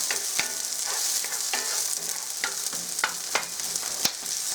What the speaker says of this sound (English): Okay, the onions are in there. Let's get those sauteed up a little bit.